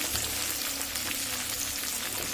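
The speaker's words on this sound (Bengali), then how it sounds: "মিডিয়াম ফ্লেম করে আলুটা একটু ভেজে নরম করে নেব" Diced potatoes with turmeric and salt fry in a pan over a medium flame, giving a steady close sizzle and crackle throughout with no talking.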